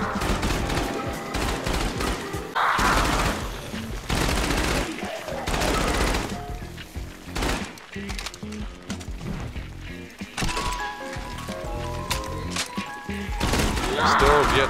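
Browning machine gun fire in a zombies video game, bursts of rapid shots with game sounds, mixed under a player's talk throughout.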